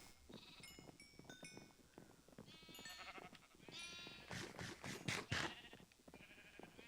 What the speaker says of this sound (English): I've got no idea how many sheep there are in here.